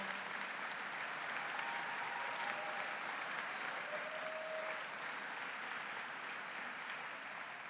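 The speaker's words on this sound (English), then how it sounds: "Let's give them a round of applause." A large audience at a governor's inaugural address gives a sustained round of applause, a steady dense wash of clapping that holds evenly throughout with faint voices mixed in.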